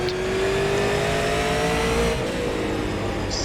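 Super Late Model race cars in the iRacing sim at Lanier National Speedway, a loud steady engine roar with a rising and falling whine as cars run in traffic, dense and continuous throughout.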